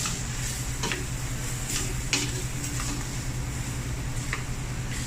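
Utensil scraping and tapping through chili noodles being mixed in a pan, a few soft irregular clicks over a steady sizzle-like hum, fairly quiet and close.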